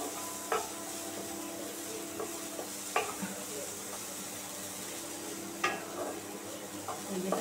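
Carrots frying and being stirred in a pan for carrot halwa, a steady sizzle with recurring scrapes and clinks of the spoon against the pan, close up and without talk.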